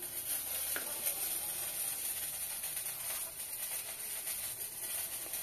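Eggplant frying in a pan gives off a steady, moderately loud sizzle with a continuous hiss that holds evenly from start to finish, with no voices.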